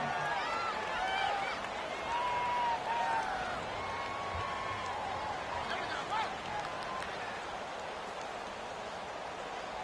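A virtual stadium crowd in a football video game's online franchise mode swells ahead of a big third down, a dense, steady roar at moderate distance, with voices talking over it.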